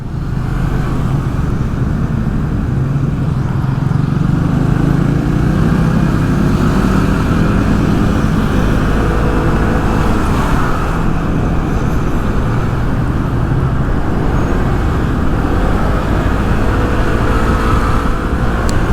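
A small Aveta Viper scooter rides through congested traffic with a steady, loud engine drone, surrounded by the rumble of nearby cars and motorbikes and constant road noise.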